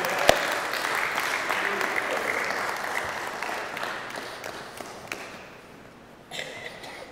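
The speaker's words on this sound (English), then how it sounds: "Give God a hand clap" A church congregation claps together in a dense burst of applause that slowly fades, with a few scattered claps near the end.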